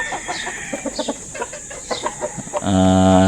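A Texas breed hen clucks in short, repeated bursts, then a sustained, louder squawk rings out near the end.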